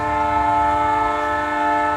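A Canadian Pacific holiday train sounds a long, sustained multi-tone horn as it pulls away, loud and steady across the whole stretch with a low rail rumble underneath.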